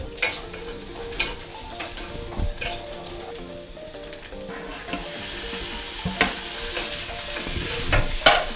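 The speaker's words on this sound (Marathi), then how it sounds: "कढईमध्ये थोडं मी तेल घातलं आहे, त्यामध्ये आपण कांदा, लसूण आणि टोमॅटो हे भाजून घेणार आहोत" Onion, garlic and tomato frying in oil in a kadhai, a close, steady sizzle with repeated scraping stirs and spatula clicks against the metal pan, with no voices.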